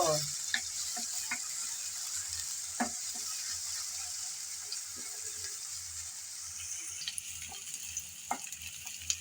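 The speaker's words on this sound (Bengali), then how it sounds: "আমি পেঁয়াজ কুচি ব্যবহার করছি আপনারা চাইলে বাটাও ব্যবহার করতে পারেন নেড়ে চেড়ে হালকা করে ভেজে নেব" Chopped onions fry lightly in oil while being stirred, a quiet, steady sizzle broken by scattered scraping and tapping of the spatula against the pan for several seconds.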